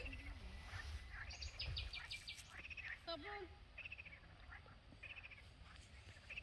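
Outdoor chorus of croaking frogs and chirping calls from several animals in marshy ground, moderately distant, over steady background noise and a brief voice.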